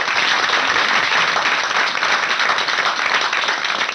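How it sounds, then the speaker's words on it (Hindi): Audience applause filling the space, a dense, loud, sustained clapping that holds steady throughout. "तालियां तालियां।"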